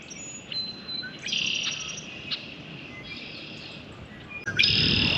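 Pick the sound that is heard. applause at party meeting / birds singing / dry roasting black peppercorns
birds singing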